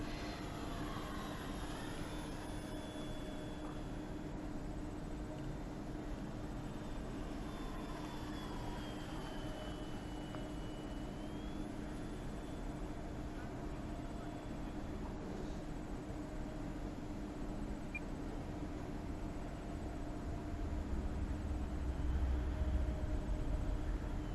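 A small airplane on tires without skis landing on cold snow, its engine a steady distant drone with a low rumble building near the end of the landing.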